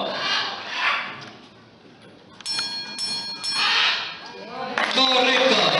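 Bell strikes on a trip to Gran Canaria, several clear ringing tones with sustained metallic overtones layered over swishing background noise.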